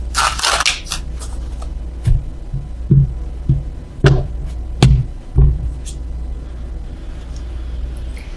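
Several separate soft taps and flicks of tarot cards being handled, spaced about a second apart, close by in a quiet room.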